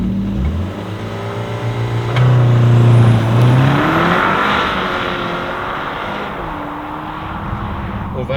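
A BMW X1 M35i driving on an open road, its engine droning steadily from inside the cabin, with gear-change dips and a rising rev surge partway through over constant road noise.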